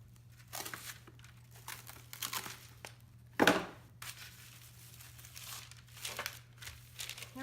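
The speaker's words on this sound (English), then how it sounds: "before I press my cellophane over the top, and then press it up" Plain cellophane crinkles as it is pressed down over homemade pizza dough, giving soft, close rustling bursts with one louder crackle partway through and a steady low hum underneath.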